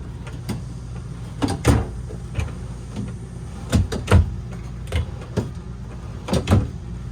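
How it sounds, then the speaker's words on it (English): Drawers in a used 2020 Grand Design Imagine 3000QB travel trailer sliding open and shut, a series of sharp knocks and rolling clunks spaced unevenly over several seconds, close and clear. "3-4 drawers on the side over here open up"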